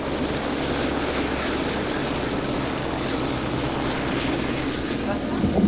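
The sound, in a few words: police helicopter approaching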